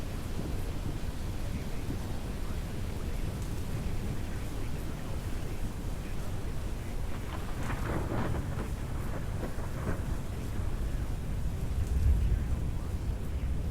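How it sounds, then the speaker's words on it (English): Heavy rain in a Roblox Twisted storm chase hisses steadily as a dense, even wash with a brief low rumble near the end; a voice speaks faintly beneath. "Still hitting some pretty heavy rains."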